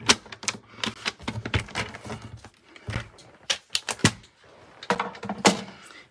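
A paper trimmer cuts white card stock down to size for a handmade card, with close, crisp slicing, clacks and clicks arriving in uneven bursts separated by short pauses.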